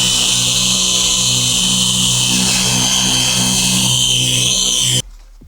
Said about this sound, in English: we're gonna polish it over the top and we're gonna take what we get